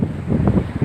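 Wind gusting along a coastal fishing shore, buffeting the microphone as a steady low roar with rising and falling gusts, close and fairly loud, with no talking.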